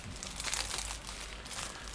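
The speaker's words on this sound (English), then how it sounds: "let's get that back into this little plastic bag" Small model kit parts go back into a little plastic bag, making faint, close crinkling and rustling without any talk.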